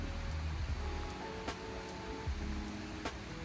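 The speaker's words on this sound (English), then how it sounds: "You can hear the water" Rushing water from a waterfall in Newlands Forest, a steady broadband roar heard from fairly close on a forest hike, with a few brief knocks and rustles over it.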